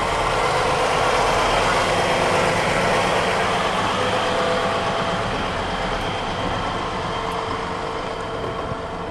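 A generic Freightliner truck idling steadily up close, a continuous broadband engine rumble holding at an even level throughout with no voices.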